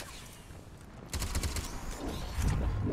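Video game gunfire from Mass Effect 3 during a squad firefight, a burst of rapid automatic shots with sharp, close cracks, followed by a second heavier volley over low ambient rumble.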